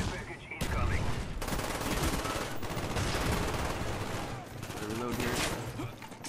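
Rapid bursts of automatic gunfire in the PC shooter Call of Duty: Black Ops, dense and continuous with crackling shots layered over game sounds and faint voices.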